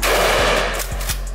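Rapid gunfire at a gun range, a quick burst of loud close shots in succession with sharp cracks and ringing reverberation.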